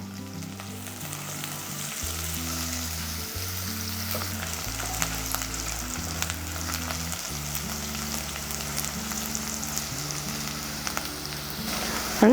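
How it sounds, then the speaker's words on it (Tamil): Onions sautéing in a pan for tomato rice, a steady, moderately loud sizzle with light stirring scrapes, while background music plays underneath throughout. "வெங்காயம் நல்லா வதங்கிட்டு இருக்கு."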